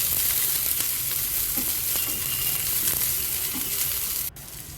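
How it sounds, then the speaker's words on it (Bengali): Continuous crackling sizzle of garlic and onion frying in oil, with faint occasional scrapes of a spoon, cutting off abruptly near the end. "এবার দিয়ে দিচ্ছি অল্প কিছু রসুন আর দিয়ে দিচ্ছি এখানে একটা পেঁয়াজ হালকা করে একটু ভেজে নিতে হবে"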